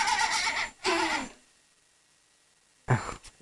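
A young girl imitates a sheep's bleat with two wavering voiced bleats, close and fairly loud, followed by a silence and a brief further vocal sound.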